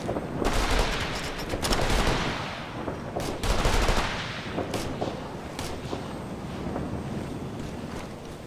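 Gunfire in the Operation Flashpoint: Red River military shooter: loud bursts of rifle and machine-gun shots cluster early, with sharp cracks scattered through a steady wind-like roar.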